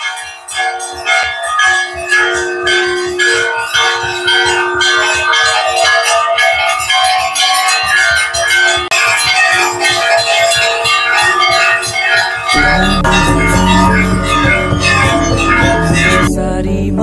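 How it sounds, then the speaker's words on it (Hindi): Temple bells ring continuously and loudly during the bhog offering at a Kali temple, a dense metallic clangour with overlapping strikes. A low rumble joins in near the end. "ये देखो घंटियां वंटियाँ बजनी स्टार्ट हो गई है"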